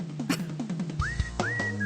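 Someone whistles a few short rising notes, fairly faint, over a background of soft tapping and muffled sounds.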